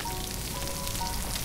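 Steady hiss of food sizzling over a fire in the survival game Stranded Deep, a continuous crackling wash with no voices.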